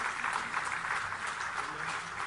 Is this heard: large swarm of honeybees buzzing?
no